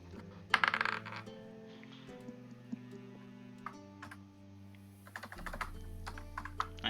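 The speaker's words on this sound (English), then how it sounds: "I hear the typing." Rapid, irregular keystrokes on a computer keyboard during a tabletop role-playing session, with a few sharper clicks standing out, close and fairly quiet, no talking.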